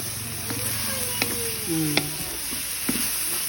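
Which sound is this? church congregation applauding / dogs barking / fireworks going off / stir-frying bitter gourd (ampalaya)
stir-frying bitter gourd (ampalaya)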